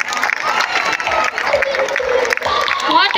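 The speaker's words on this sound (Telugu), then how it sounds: "గట్టిగా కొట్టాలండి చప్పట్లు." Audience applauding and cheering for schoolchildren after their dance performance, a dense crowd of clapping with shouts mixed in, voices rising over it near the end.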